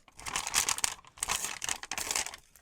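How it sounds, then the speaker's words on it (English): Coffee-dyed music paper being torn by hand for a junk journal craft project, with several quick crinkly rips in bursts separated by short pauses, close and fairly quiet. "Maybe we'll just rip up some coffee-dyed music paper."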